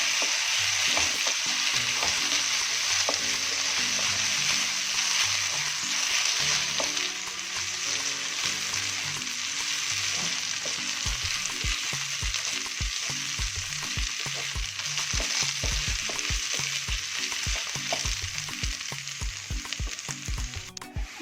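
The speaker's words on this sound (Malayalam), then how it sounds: "ഇനി അരിയും കൂടെ ഇതിനകത്തിട്ട് നന്നായിട്ടൊന്ന് വറുത്തെടുക്കണം" Raw rice frying and being stirred in a hot pan for onion rice, a loud continuous sizzle close by with rhythmic scraping strokes of the spoon throughout, no voices.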